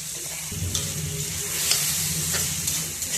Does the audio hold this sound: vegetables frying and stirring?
yes